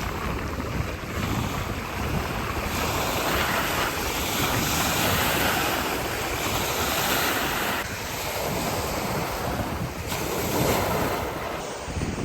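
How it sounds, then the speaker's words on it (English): Choppy lake water slaps and churns in a continuous broadband wash, with strong wind buffeting the microphone throughout and no voices. "It's like waves on this section and much choppier water."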